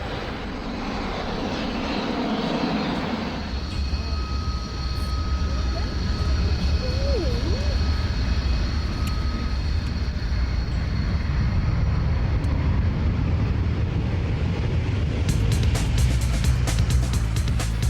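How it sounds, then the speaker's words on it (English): An Airbus airliner flies tight manoeuvres at the Farnborough air show in 2002, its engines giving a steady, loud roar that holds throughout, with a sharper whine building near the end. "you can move such a big aircraft in a very tight volume in an entire safety"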